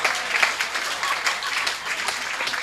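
An audience at a Hindi comedy poetry show claps in a dense, steady round of applause that swells slightly and holds, moderately loud throughout.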